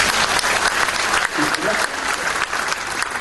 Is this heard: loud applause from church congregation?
yes